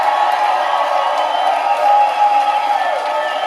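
A studio audience cheers and whoops in a steady crowd roar near the end of a livestreamed talk show, with no clear clapping and no speech on top.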